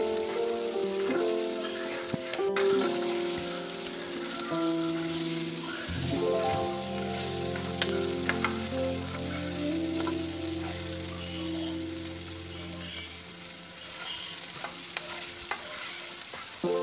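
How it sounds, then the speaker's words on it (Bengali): Spice masala for a masala dal with beef fat is stirred and fried in a pan, a steady soft sizzle with faint scraping stirs running throughout and no talk. "তো মশলাটা এভাবে ভালোভাবে নেড়েচেড়ে কষিয়ে নিয়েছি।"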